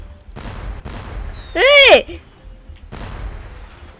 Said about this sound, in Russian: Минуточку, нас что, фейерверками убивают?